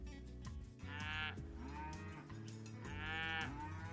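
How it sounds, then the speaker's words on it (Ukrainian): Two long, low cow moos, one after the other, close and loud with a brief pause between them. "Правильно, звук мами корови."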